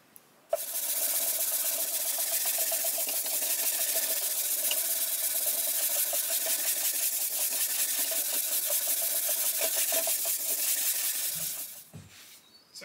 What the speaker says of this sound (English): So I'll be hand sanding most of them.